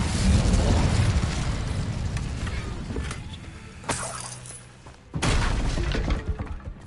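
Fire spell blasts in the video game Hogwarts Legacy: a loud crackling burst at the start fades into a rumbling tail, with a second sharp explosive hit near the end.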